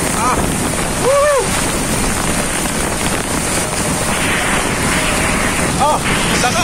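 Strong Typhoon Dante winds roar in a steady, loud rush with broad noisy gusting, accompanied by a brief shout from a nearby person.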